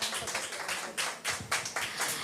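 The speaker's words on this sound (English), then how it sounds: "A big round of applause for them." Audience applause for a student group performance at an academic conference, a steady patter of many hands clapping with irregular swells, fairly close and continuous without talk.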